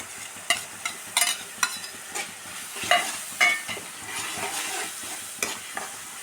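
Chopped ginger fries in a pan, a steady sizzle broken by irregular scraping and clinking strokes of a spoon stirring, close and moderately loud with no talk.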